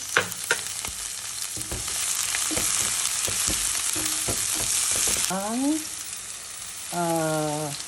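Garlic and onion sautéing in olive oil for vegetable pancit noodles: a close, steady sizzle broken by repeated stirring knocks and scrapes in the pan, with a few short rising squeaks near the end.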